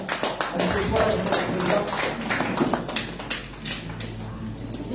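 Church congregation at a Sunday service breaking into applause, with rapid overlapping claps filling the room while voices talk over them.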